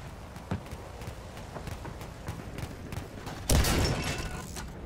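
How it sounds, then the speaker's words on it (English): An anti-air gun fires in a Battlefield video game, a run of regularly spaced thudding shots under steady background battle noise, followed by a louder, sustained burst of firing late in the stretch. "I'm just bombarding the guys on a D with the anti-air gun."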